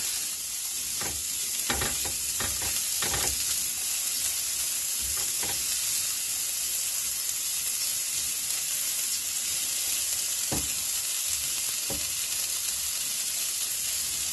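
Soy chorizo sizzles in a pan over medium-high heat, a constant bright hiss with a few clicks of a utensil stirring early on and again near the end, no voices.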